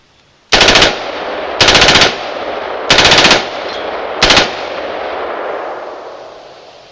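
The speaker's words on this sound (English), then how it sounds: "That is an assault weapon, not the first one." Four loud, close bursts of rapid automatic fire from an assault weapon, each lasting about half a second, separated by short pauses and followed by a lingering echo that fades away.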